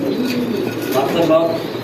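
Pigeons coo in a low, continuous murmur at a pigeon farm, several birds overlapping close by with faint chirps and background chatter.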